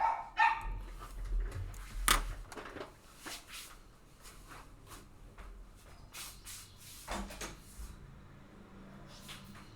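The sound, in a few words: dogs barking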